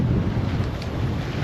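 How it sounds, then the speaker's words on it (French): Strong headwind buffets a sailboat on the open ocean during a transatlantic return crossing, a loud, steady roar of gusting air and rumble with no voices. "On aurait vraiment le vent de face mais pile poil."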